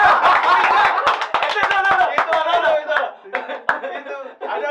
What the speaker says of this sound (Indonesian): Tepuk tangan buat Spijak.